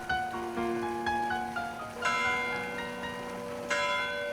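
Several church bells in Guelph ring out in overlapping peals at daybreak, fresh strikes every second or so, their tones lingering and fading into one another.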